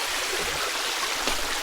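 Stream water flows steadily over a trail crossing near a lagoon, a close, continuous rushing and burbling wash with no voices.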